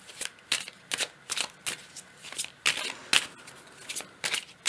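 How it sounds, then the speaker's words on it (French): Oracle cards being shuffled by hand, a run of quick papery riffles and flicks in short bursts, close and fairly soft, with no talking over them. "Alors, on va prendre une autre carte."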